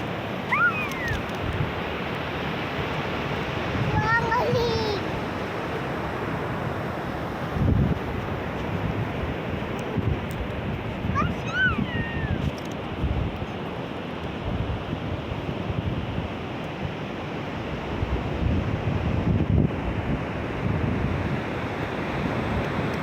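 Sea waves wash ashore at Lingayen beach under strong wind buffeting the microphone, a constant loud roar with faint calls rising briefly in the distance.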